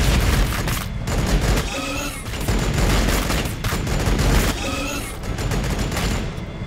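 Continuous battlefield gunfire from Warhammer 40k Battlesector, loud volleys of massed shots rolling on without pause, with heavier bursts swelling now and then.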